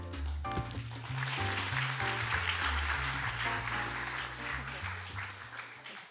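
Conference audience clapping together in a hall, a dense, sustained round of applause lasting several seconds with music playing underneath.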